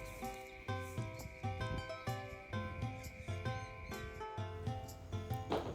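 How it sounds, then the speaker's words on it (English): Crickets chirp loudly and continuously outdoors at night on a rural off-grid property, a sustained high trill with rhythmic pulsing calls and no talking. "How loud are these crickets out here?"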